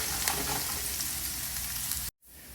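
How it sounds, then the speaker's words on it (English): Diced red onions fry in plenty of oil in a pan, giving a steady, close, dense sizzle that runs unbroken before cutting off abruptly near the end. "Want to give it a little swirl, make sure the onions don't burn, and there's lots of oil coating them so they don't stick anywhere."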